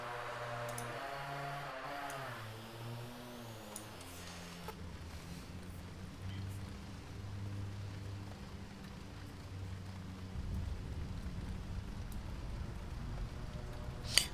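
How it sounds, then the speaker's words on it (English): Rain falling in the X-Plane 12 flight simulator on a FlyJSim Dash 8-Q400 flight, a steady soft hiss with light ticking drops, quiet and continuous beneath low droning engine tones. "I don't know where this rain came from because it wasn't here a moment ago"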